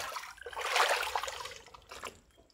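Clean water splashes and trickles briefly over a freshly caught mud crab, swelling to a close rush and then fading to a few drips.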